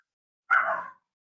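A dog gives a single short bark or yip, about half a second long, clear and fairly close against otherwise total silence.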